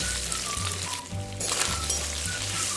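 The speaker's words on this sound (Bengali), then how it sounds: "এবার সেদ্ধ করা সয়াবিনগুলোকে আমি একটু ভেজে নেব।" Boiled soybeans frying in mustard oil in a wok, a steady close sizzle with a brief dip in the middle before the crackle resumes; no talking.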